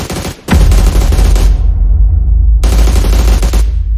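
Loud bursts of automatic gunfire in a shooter video game: a short volley, a pause, a long rapid stream of shots cutting off abruptly, then another sustained burst, close and punchy with no speech.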